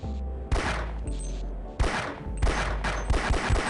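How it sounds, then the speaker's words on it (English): Gunfire in the video game Half-Life rings out in several loud, close bursts of rapid shots separated by brief pauses, with no voices. "I was shooting straight at him."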